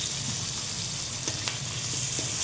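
Dried puti fish frying in hot oil, a continuous close sizzle with a couple of faint clicks from the pan, no voices.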